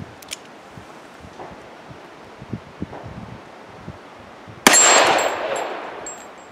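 A single sharp metallic clang at a shooting range, loud and ringing with a decaying tail, following a stretch of faint outdoor rustling and light wind noise.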